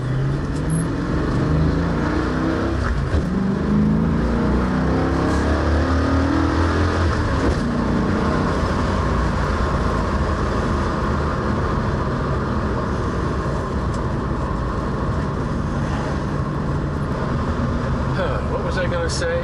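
1966 Ford Mustang with exhaust rattles driving at higher speed on a twisty road, giving a continuous loud engine and road roar with wind noise from inside the car.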